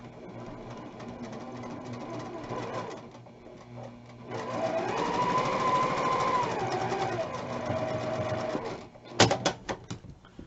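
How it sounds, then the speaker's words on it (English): A home sewing machine stitches quilt pinwheel pieces together, its rapid steady whirring running for a few seconds, pausing, then resuming in a longer burst before a few sharp clicks at the end. "Then I'm going to sew those 2 together."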